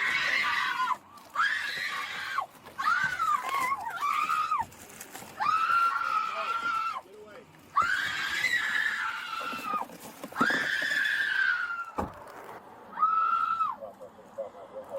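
A young woman screams again and again during a DUI arrest, with long, piercing, high-pitched wails in repeated bursts separated by brief pauses, close and loud.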